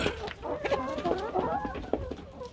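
Layer hens cluck and murmur steadily around a homemade bucket feeder in a small deep-litter setup, several birds close by with overlapping calls and no talk.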